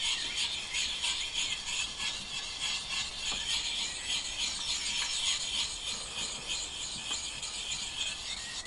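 An axe edge is worked on the coarse side of a sharpening stone in smooth circular strokes, giving a continuous, close, gritty rasping scrape of even loudness with a few faint clicks and no talking.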